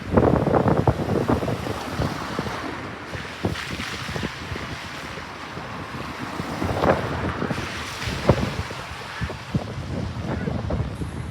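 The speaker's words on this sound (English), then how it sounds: "There's a bit of a wind out there, but nothing major" Wind gusting outdoors on Bairstow Street in Blackpool on a Sunday morning, a continuous rough buffeting rumble across the microphone with occasional sharper bumps, and a voice talking intermittently underneath.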